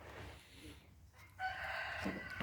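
Lohmann laying hens and meat chickens cluck and call faintly in the background, with a brief louder squawk near the end.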